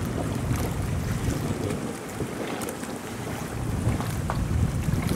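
A speedboat with a powerful engine runs on open sea, its motor a steady rumble mixed with heavy wind buffeting the microphone and waves slapping against the hull.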